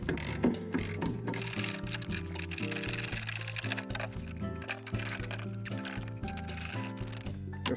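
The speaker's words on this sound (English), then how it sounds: "Okay, I got a ratchet. That'll make things go a little bit quicker." A ratchet clicks in rapid, repeated strokes while turning bolts on the seat of an International Harvester 1586 tractor, close and steady, with a faint low hum in the background.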